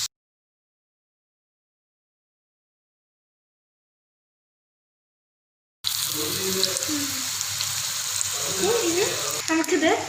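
Puffs drop into hot oil in a frying pan at a student cooking competition. After several seconds of silence, a steady, fairly loud sizzle of frying fills the last four seconds.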